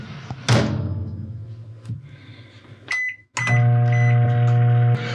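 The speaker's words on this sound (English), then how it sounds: "I'm going to microwave this up, see if it's any good or not" Microwave oven heating a spicy chipotle bean wrap: a door thump and clicks, a few beeps, then the steady loud electrical hum of the oven running alone.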